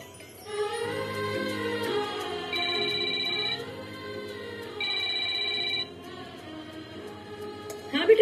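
A mobile phone rings with a repeating electronic ringtone, bursts of bright warbling tones that pause and start again, fairly quiet and close, with no voices over it.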